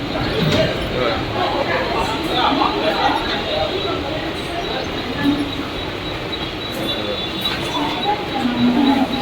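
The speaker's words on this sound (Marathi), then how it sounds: "आता ही डायरेक्ट डबल फास्ट ट्रेन आहे" A Mumbai local double fast train runs along the line with a steady, continuous rumble and rattle heard from on board, its level holding even throughout.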